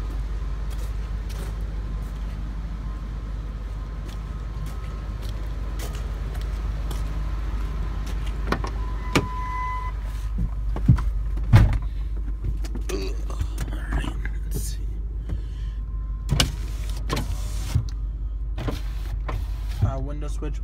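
Power windows on an old, rusted pickup truck with about 225,000 miles, worked by their switch. A low motor hum runs steadily under scattered clicks and knocks, with someone talking over it.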